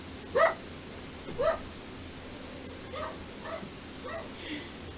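A dog barks and yips in the background, two sharp close barks followed by several softer whimpering yelps spaced a second or so apart over a quiet room tone.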